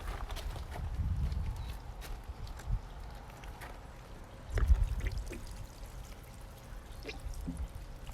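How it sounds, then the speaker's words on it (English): Water is poured onto a potted grape tomato plant outdoors in spring, coming in soft splashing bursts with a quiet trickling between them, close by and fairly faint, with no speech. "So let's water this one as well."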